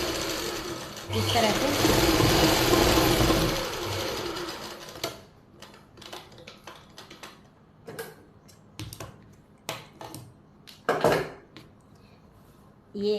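A sewing machine hums in a steady burst while stitching the lining of palazzo pants, then gives way to scattered clicks and handling noises as someone talks.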